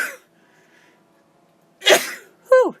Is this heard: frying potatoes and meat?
no